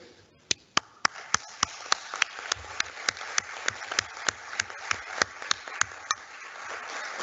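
Audience applause at the opening session of the JENUI 2022 university teaching conference, honoring former committee members: a steady, evenly spaced run of sharp claps rings out over a soft wash of crowd clapping, with no voices.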